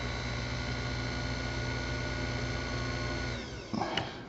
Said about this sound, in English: Yeah, it's moving, and that's drilling the hole